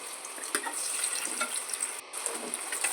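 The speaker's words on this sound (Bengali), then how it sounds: "আমি এরকম লাল লাল করে হালকা করে ভেজে নেব" Paneer cubes frying lightly in a pan give a steady, fairly quiet sizzle with small crackles and faint stirring, with no talking.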